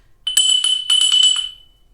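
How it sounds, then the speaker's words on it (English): A small bell rung several times in quick succession, bright clear metallic tones repeating over about a second, close and fairly loud, then ringing out and fading in an otherwise quiet room. "I wanted to let you know before I actually ring the bell."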